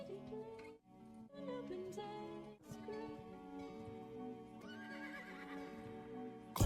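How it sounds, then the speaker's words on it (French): A horse whinnies at the opening of a French rap track. The loud, drawn-out neigh rides over layered music with no talking. "Pourquoi il y a tout le temps, en début de morceau, le son d'un hurlement de cheval?"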